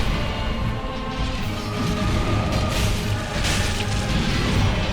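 Explosion in Dark Souls III: a dense, continuous rumbling roar with crashing bursts over a low booming bed, loud and sustained throughout, no voices.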